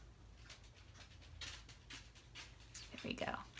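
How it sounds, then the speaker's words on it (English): A puppy pads back and forth indoors, its soft, quick panting breaths coming in faint bursts over a quiet room hiss. "My puppy's walking back and forth."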